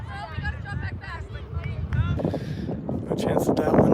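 Gusty wind buffets the microphone at an outdoor girls' soccer match, a steady low rumble growing louder toward the end beneath continuous nearby talking.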